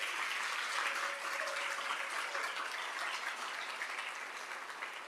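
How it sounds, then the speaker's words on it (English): Steady applause from a room full of people at a women's history breakfast event, a dense, even wash of clapping heard from a distance that fades slightly toward the end. "So let's give a round of applause to Azella."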